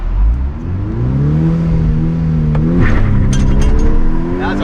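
A 2012 VW Golf R (MK6) revs at high RPM, holding a loud, steady engine drone that rises in pitch before launching. Faint voices are heard near the end.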